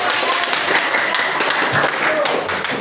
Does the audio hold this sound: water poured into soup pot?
no